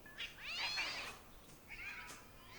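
Cats yowling and meowing in a fight scene from a TV drama, two drawn-out wavering cries close by, with a brief pause between, heard over quiet background.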